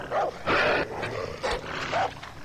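Dog barking in the video game Far Cry 3, a few loud, sharp yaps and barks in an irregular burst, close and alone with no talk over them.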